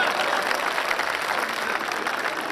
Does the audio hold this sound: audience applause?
yes